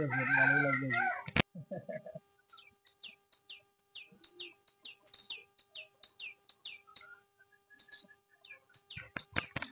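Free-range chickens outdoors at dawn, with a sharp burst at the start followed by many short, regular chirps and clucks, one or two crow-like calls, and a steady faint hum. A voice is heard briefly at the opening.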